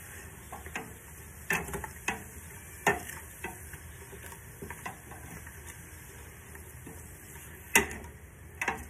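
Celery and carrots cooking in a pot, with a soft continuous sizzle under scattered stirring clicks and scrapes of a utensil against the pot, close and fairly quiet.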